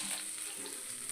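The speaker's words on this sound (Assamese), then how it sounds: "এতিয়া ফাৰ্ষ্টতে মাছখিনি ফ্ৰাই কৰি লোৱা হ'ব।" Fish pieces frying in hot oil in a kadai for a fish curry, giving a steady, close sizzle and crackle that runs unbroken with no talking.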